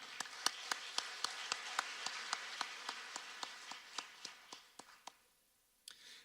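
Audience applause at the Seminole County Night of Champions awards ceremony: sparse, evenly paced claps, fairly faint, that taper off after about five seconds, followed by one last clap.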